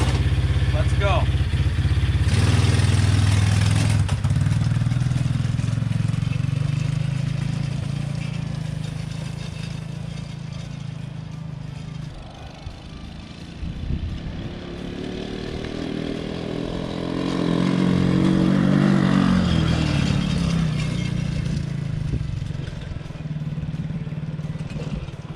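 A cheap ATV bought for $10 with a working backlight and high beam, engine droning steadily loud and near while being ridden, pitch rising and falling with throttle, rough clattering texture throughout, no speech heard.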